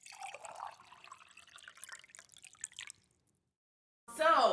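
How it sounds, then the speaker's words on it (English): Boiled macaroni noodles being drained, a steady pouring splash of water and dripping for about three seconds, then silence before a brief loud burst at the end. "So what's next is I drained my noodles."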